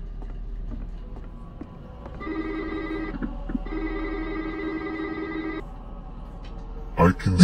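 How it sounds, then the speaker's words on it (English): A telephone rings in two long bursts with a short gap between them, clear and fairly loud against a quiet room, followed by a brief knock or bump at the end. "The phone's ringing."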